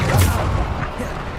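The Bombarda explosion spell in Hogwarts Legacy sets off a loud, close boom with a heavy low rumble that fades over about a second, blended with a voice calling out.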